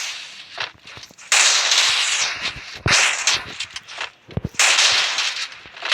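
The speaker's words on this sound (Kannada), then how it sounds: "ನೋಡಿ ಗಾಯ್ಸ್, ಅವ್ನು ಬಾಂಬ್ ಹಾಕ್ತಿದ್ದಾನೆ ಗಾಯ್ಸ್." Bombs go off in a shooting video game as a run of sharp, crackling blasts. The bursts are close and loud and overlap one another across the stretch.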